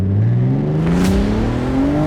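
A 500 WHP big-turbo BMW M3 pulls hard through first gear, its engine note climbing steadily and loudly from start to finish with no talking over it.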